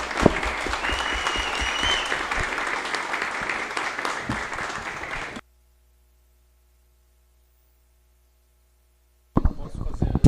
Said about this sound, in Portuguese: E uma salva de palmas aí para os nossos convidados